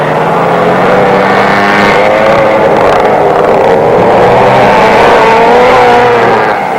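McCulloch go-karts from 1961 race around a track, a loud, dense whine of small two-stroke engines revving and shifting pitch continuously, close and unbroken throughout.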